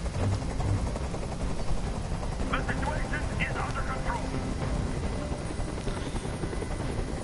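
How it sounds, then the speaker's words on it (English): Continuous rotor thump of a video game helicopter close by in Detroit: Become Human, steady and loud throughout, with speech faintly audible underneath. "Tell that helicopter to get out of here."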